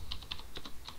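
Quick keystrokes on a computer keyboard as a command is typed at a terminal, about seven distinct clicks in an uneven rhythm, close and fairly quiet, with no talking.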